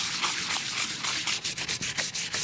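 Sanding the high edges of an antique clock with 150 grit sandpaper: close, brisk back-and-forth rasping strokes, speeding into quick rhythmic scrubs toward the end, no talk.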